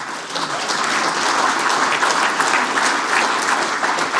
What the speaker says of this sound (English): Could everyone mind giving them a round of applause?